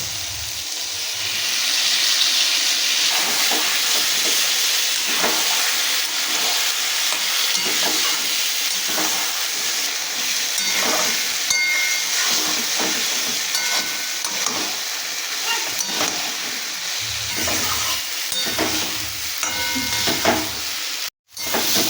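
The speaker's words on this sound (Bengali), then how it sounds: "এবার আমি নারকেল বাটাটা দিয়ে দেবো।" Coconut paste goes into potatoes already fried well in a pan, stirred through a steady loud sizzle and hiss with scraping strokes, alone without voices, for about twenty seconds before a brief cutoff near the end.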